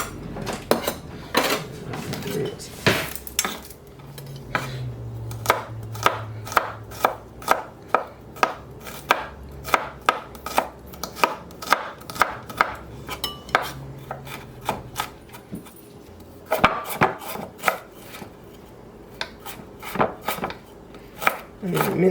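A clove of garlic minced with a knife on a wooden board, rapid repeated close chopping taps in bursts with short pauses.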